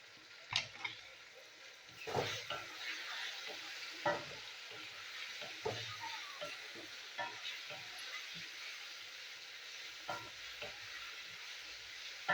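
Tomato and spice masala with chili powder fries quietly in a pan, a faint steady sizzle under repeated soft scrapes and taps of a spoon stirring it.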